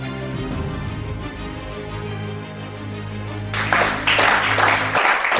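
A church congregation breaks into loud clapping during a worship service, the applause bursting in suddenly after a stretch of sustained music and filling the final seconds.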